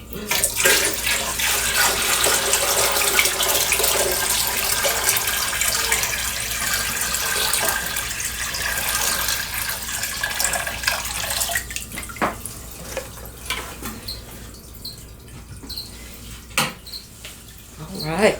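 Water pours and splashes continuously into a rimless nano aquarium tank, the flow thinning and turning intermittent toward the end, with a few small clinks.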